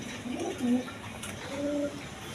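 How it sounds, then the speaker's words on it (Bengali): A pair of Afsan Giribaz pigeons coo in low, soft bursts, one near the start and another toward the end, over a steady background hum. "এখানে এক প্যাট গিরিজিয়াল কবুতর আছে"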